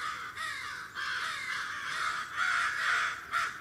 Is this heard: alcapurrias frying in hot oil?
no